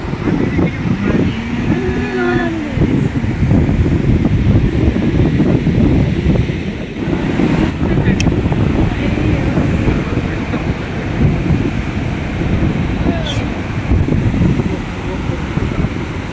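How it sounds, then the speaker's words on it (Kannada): Strong wind comes off the water at Gaganachukki-Barachukki falls near Shivanasamudra dam in Karnataka. A loud, continuous roaring gust buffets the microphone throughout, with a steady low rumble underneath. "ಆ ನೀರಿಂದ ಇದು ನೋಡಿ ಹೆಂಗ್ ಬರ್ತಿದೆ ಗಾಳಿ."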